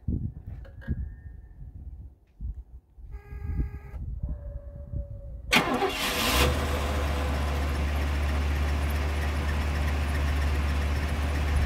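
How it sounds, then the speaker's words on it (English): The 304 V8 of a 1978 Oldsmobile Toronado Brougham cranks briefly and fires up after warning chimes, then settles into a steady, loud idle with low rumble, heard near, without talk. "start that up for us if you would"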